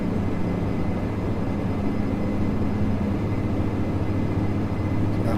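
Steady, loud drone of a Dash 8 turboprop's engines in the Air Hauler 2 flight simulator, an unbroken low hum with no talk over it.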